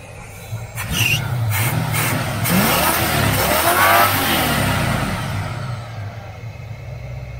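A 1978 El Camino SS engine revs loudly on a test drive, a steady close rumble that swells and sustains before easing slightly, with no talk over it.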